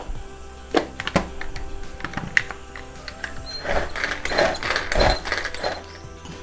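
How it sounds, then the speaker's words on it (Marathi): Ripe tomato being chopped in a hand-operated vegetable chopper, a run of clicky ratcheting and clinking mechanism strokes, close and fairly loud, with busier rapid bursts toward the end. "मी ते टॉमॅटो हा इथे चॉपरमध्ये बारीक करून घेते"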